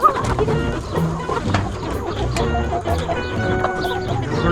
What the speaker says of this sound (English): These birds are called Freedom Rangers. They're billed out as a non-GMO bird.